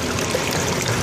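Water trickles and burbles through a small hand-built dam in a creek at a science center, a close, continuous gentle splashing flow.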